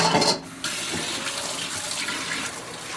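Hot water runs from a kitchen tap in a steady, close rushing stream, briefly interrupted near the start and then flowing on evenly without a break.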